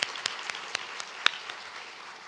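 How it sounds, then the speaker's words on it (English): A small crowd at a business summit lunch applauds, scattered claps forming a light, steady patter that fades slightly toward the end. "If you can give them a round of applause."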